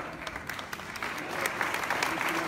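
Applause from a gathering at a French deputy's New Year greetings speech, a soft, somewhat distant patter of many hands that gradually swells, with faint voices underneath.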